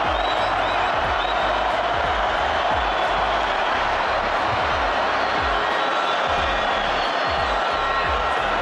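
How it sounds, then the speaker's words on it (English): Stadium crowd at the 2024 Copa America final between Argentina and Colombia, a dense, steady roar of cheering and applause filling the whole clip, with no individual voice standing out. "That wakes this crowd back up."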